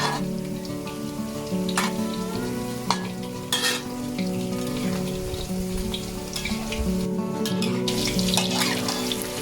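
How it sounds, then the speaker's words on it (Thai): Batter-coated popcorn chicken deep-fries in oil with a constant bubbling, crackling sizzle, close and moderately loud, broken by a few sharp clicks of a utensil. "นี่นะคะเราก็จะค่อยๆทอดไปจนเขาค่อยๆเหลืองพองขึ้นมาแบบนี้นะคะ"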